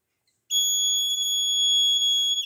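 A buzzer on a BC547 and photodiode fire alarm circuit sounds one steady, piercing high tone, held for about two seconds after a silent start and then cut off; nobody speaks.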